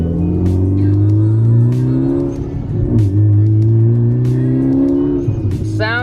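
A Nissan Z sports car engine revs loudly and close by, its low exhaust drone rising and falling through several long pulls, with brief sharper bursts on top.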